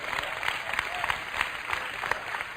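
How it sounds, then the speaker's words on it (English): Sermon audience applauding in a large hall, a moderate, even patter of many hands clapping with faint crowd murmur mixed in. "You should clap right there."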